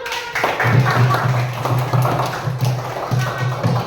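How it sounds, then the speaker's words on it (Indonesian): A group claps in a classroom coaching session for academic supervision. The clapping is close, rhythmic and continuous, with a voice talking over it. "Kita beri tepuk tangan dulu."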